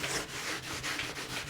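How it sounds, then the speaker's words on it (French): Cloth rubbed over slate with cleaning spirit, a soft continuous scrubbing in quick back-and-forth strokes, faint and close, with no talk. "Hop, on frotte partout avec l'essence F."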